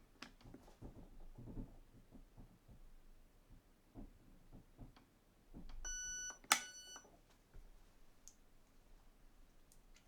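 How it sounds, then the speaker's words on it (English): Quiet clicking and handling noises, then a short electronic tone burst and a sharp beep from the HALL electronic trigger unit of a Specna Arms FX02 airsoft gun during a factory reset, close up. "Now it's going to beep at us. Let it beep."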